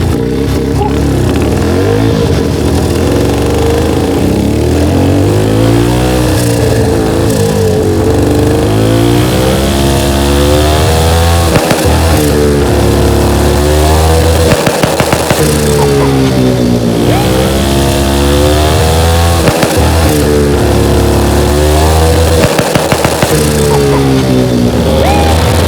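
150cc turbocharged go-kart engine revving loudly while being driven, repeatedly climbing and dropping in pitch through throttle blips, close and raw, with occasional faint voices underneath.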